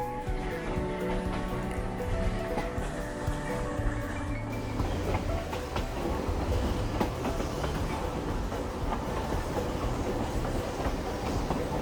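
Steady rumble and clatter of the Durango to Silverton narrow-gauge train in Colorado, heard from a car close to the engine, with continuous rail clicks and wheel noise running the whole time, loud and unbroken.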